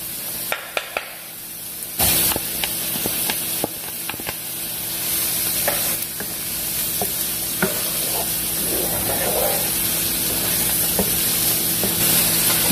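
Onions and peppers frying with garlic in a pan, a steady sizzle broken by stirring clatter and scraping, loudest partway through and continuing without speech.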